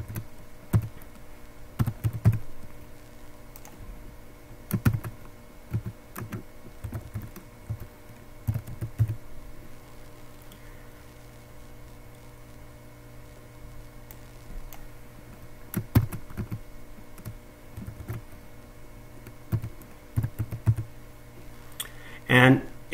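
A password typed on a computer keyboard: sparse, faint clusters of key clicks in short bursts with pauses between them, over a quiet room hum, with a voice faintly present.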